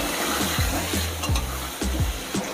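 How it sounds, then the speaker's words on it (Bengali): Potatoes fry in hot oil with a loud, continuous sizzle, broken by repeated scraping strokes of a spatula against the pan about every half second. "তেল গরম হয়ে গেছে, আলুগুলো ছেড়ে দেবো।"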